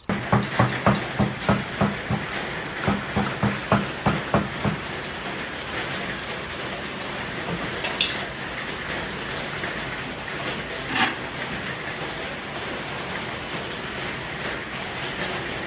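Heavy rain pours down in rural Phetchabun, Thailand, as a steady broad hiss. The first few seconds carry a run of rhythmic thumps, and no one speaks.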